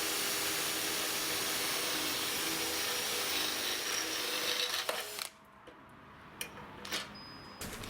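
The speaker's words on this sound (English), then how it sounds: "I've thrown it back into regular drill mode just to finish off those 2 holes" A Metabo SB 18 LTX BL I cordless hammer drill, set to regular drill mode, bores holes with a loud, steady whirring grind for about five seconds before cutting out, followed by a few scattered clicks and knocks.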